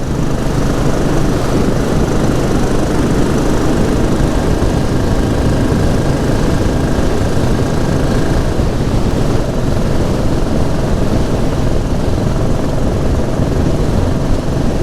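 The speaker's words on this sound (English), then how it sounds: "I hope you can hear me over the noise of the exhaust." Loud, continuous engine and exhaust roar of a Royal Enfield 535 Fury motorcycle, steady throughout with heavy wind buffeting on a windy day, like riding on it.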